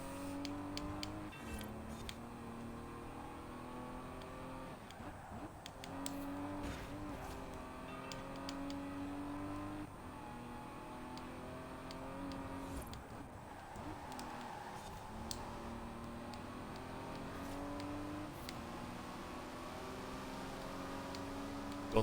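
A 2003 Nissan Fairlady Z racing in the Forza video game, its engine droning steadily with rising and falling pitch through gear changes, continuous and fairly loud for the whole stretch, no talking.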